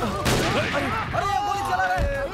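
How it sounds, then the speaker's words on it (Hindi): Gunfire crackles in an action scene of a Hindi-dubbed Tamil commando film, with sharp bursts at the start and near the end of a brief span while shouting voices carry over the shots. "अरे ये गोली चला रहे हैं"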